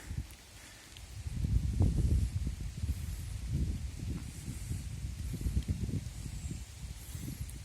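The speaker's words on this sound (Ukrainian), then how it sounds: "Сьогодні вітряно, видно, як вітер листочки жовтенькі зливає, зриває з дерев." Autumn wind gusting outdoors in Truskavets, Ukraine, rustling and stripping yellow leaves from trees in uneven surges that rise and fall over a low rumble.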